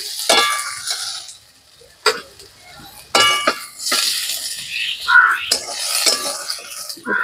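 Pointed gourd (potol) fries in plenty of oil while a metal spatula clanks and scrapes against the pan in loud, irregular bursts, with a soft sizzle underneath and short quiet gaps between the strokes.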